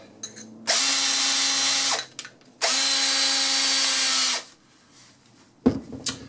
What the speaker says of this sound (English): So of course you'll need a drill.